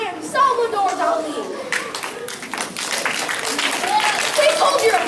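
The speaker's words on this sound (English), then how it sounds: "Please hold your applause." Children clap and applaud in a classroom or school event, with scattered hand claps mixed under loud overlapping speech and kids' voices.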